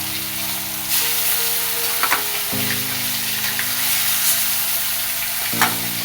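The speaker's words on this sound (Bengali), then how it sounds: "একদিকে মাছ ভাজা বসিয়ে দিয়েছি" Fish fries in a pan on a home stove, a steady close sizzle with a few scraping stirs and occasional spits, and no voices over it.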